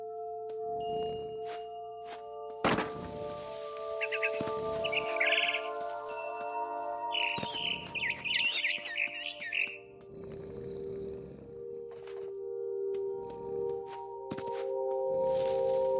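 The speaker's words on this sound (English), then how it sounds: "It was a barn swallow going back to her nest." A barn swallow chirping near its nest in the video game What Remains of Edith Finch, with short bursts of high chirps in two clusters over low ambient hum and scattered soft thumps.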